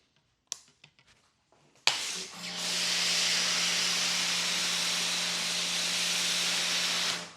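A Big Boi Washr Pro 20 amp pressure washer starts up after a few clicks and then sprays in a loud, steady hiss with a low motor hum underneath, holding for about five seconds before cutting off.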